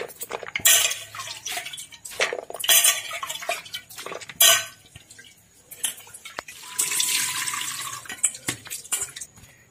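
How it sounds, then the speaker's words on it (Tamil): Soaked chana dal and toor dal are strained through a sieve in a kitchen, with sharp metallic clanks and clatter in bursts, then a stretch of running, splashing water, close by and with no talk. "இப்போ இதை நம்ம வடிகட்டுவோம் சல்லடையில்."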